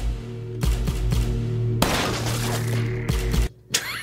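Gunfire from the action film Exit Wounds: several sharp bursts of shots and crashing impacts, with a sustained chaotic stretch of rapid fire and breaking debris over a low background hum, loud and close.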